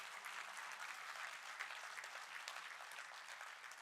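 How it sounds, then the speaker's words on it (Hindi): Audience clapping at a university summit of institutional leaders, a continuous dense patter of many hands, faint and distant in the hall, steady throughout. "जोर से ताली बजाइए।"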